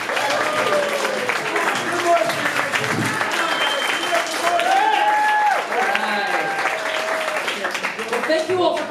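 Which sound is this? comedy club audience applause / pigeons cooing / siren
comedy club audience applause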